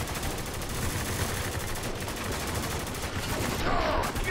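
Dense, continuous automatic gunfire crackles in Spec Ops: The Line during a heavy firefight, loud and sustained throughout with a voice briefly over it.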